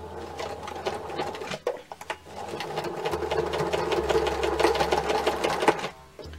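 Sewing machine stitching a bucket bag with a short backstitch, a close steady mechanical whir with rapid needle ticking that pauses briefly before running on evenly.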